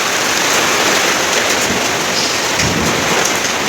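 Heavy rain pours down steadily in a storm with hailstones falling, a dense close hiss of water striking the ground and roofs with scattered harder impacts throughout; no voices.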